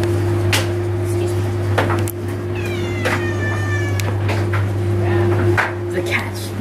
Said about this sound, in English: The cat speaks.